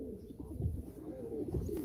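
Pigeons at a live pigeon auction coo in a steady, low, overlapping murmur that runs through the whole stretch, fairly close and moderately loud, with no voices.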